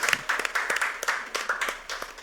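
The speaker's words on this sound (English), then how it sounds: "Big round of applause." Dense applause from an audience after a panel conversation, a continuous loud wash of many hands clapping together with a few sharper, nearer claps standing out through it.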